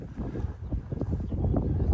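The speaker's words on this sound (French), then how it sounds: "Il y a des petites rafales, c'est pas très agréable, donc il fait pas très froid mais il y a du vent" Gusty spring wind blows outdoors at an apiary on a sunny day, a close, rumbling buffet of air that rises and falls in small gusts, with no voices.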